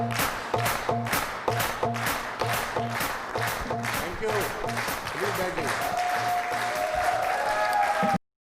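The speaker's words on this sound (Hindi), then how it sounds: "सीटियां, तालियां जोरदार" An event audience at a hotel anniversary celebration in Delhi claps loudly and continuously while a rhythmic background beat pulses, with long whistles cutting in near the end before the sound cuts off.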